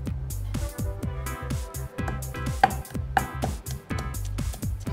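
Yellow chilies and other peppers are pounded in a mortar with a pestle, a rapid, steady series of close, heavy thuds with slight clattering, no talking.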